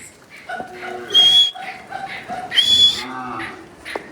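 A cow on an Indian farm moos repeatedly in loud, drawn-out calls close by, with brief yelps and other animal noises between the lows.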